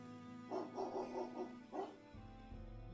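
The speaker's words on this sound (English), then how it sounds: "From a distance, he faintly hears the sounds of Colby's relentless barking as it gets further away from the house" Dog barking from an indie video game: a run of six quick, moderately loud barks in a steady rhythm, followed by a low rumbling thud and background hum.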